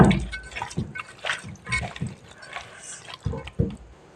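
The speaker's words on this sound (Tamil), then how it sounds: "இது கொஞ்சமாக தண்ணி ஊற்றணுங்க நிறைய ஊற்ற வேண்டாம்" A little water poured into a pan of chicken 65, heard as soft, irregular splashes and drips in short bursts, fairly quiet and close.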